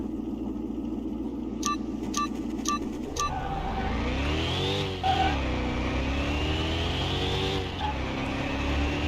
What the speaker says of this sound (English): Those Ford GTs sound really cool.